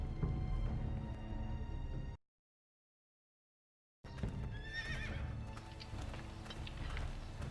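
A horse in the Game of Thrones Telltale video game whinnies against game music and the clip-clop of hooves, with the sound cutting to total silence for about two seconds before returning.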